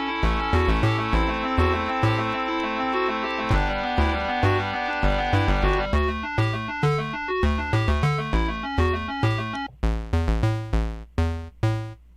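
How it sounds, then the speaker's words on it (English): A classic NES-style 8-bit bass synth preset plays a bouncy, punchy square-wave bassline in a steady groove, layered with bright chiptune chords and melody for an 8-bit cover, loud and without speech. "they have a nice bass preset that you hear on a lot of the classic NES games"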